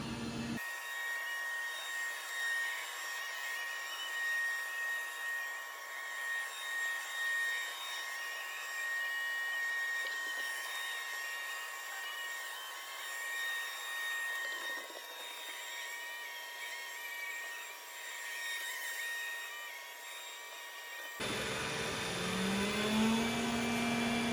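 An iRobot Roomba J7+ robot vacuum runs steadily on carpet, its continuous whirring hum close and unbroken for about twenty seconds before the tone shifts at the end.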